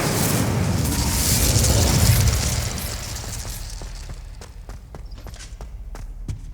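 An Incendio fire spell is cast in Hogwarts Legacy, a loud roaring whoosh of flame that swells for about two seconds and then fades into a run of light, evenly spaced footsteps.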